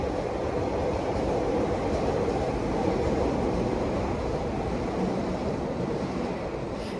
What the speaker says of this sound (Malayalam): ട്രെയിൻ പോകുന്നുണ്ട് അടുത്ത് കൂടെ ട്രെയിനിൻ്റെ സൗണ്ടാണ് നിങ്ങൾ കേട്ടോണ്ടിരിക്കുന്നത്